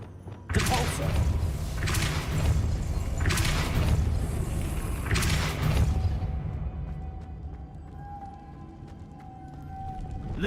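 Depulso spell cast in the video game Hogwarts Legacy: a loud, dense whooshing blast with repeated heavy thumps over about six seconds, fading into a quieter ambient hum.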